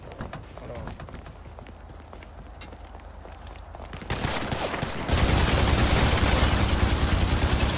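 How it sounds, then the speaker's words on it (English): Gunfire in a Grand Theft Auto roleplay session, with rough, dense bursts that grow louder and more continuous midway, set against steady background noise and some talk. "Why the fuck y'all shooting me, man?"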